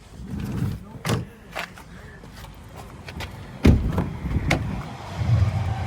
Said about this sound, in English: I'll push the seat forward so we get access.